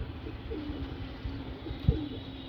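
Ferozpuri pigeons cooing softly in low, throaty repeated calls, moderately close, over a steady background hum with one brief thump near the end; no talking.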